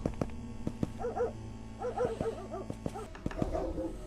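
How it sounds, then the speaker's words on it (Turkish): A dog barks and yips repeatedly over a synthetic game soundscape with footsteps and clicks in a horror game set in a village house at night, the barks mid-distance and fairly steady. "Ya köpek bir sus ya."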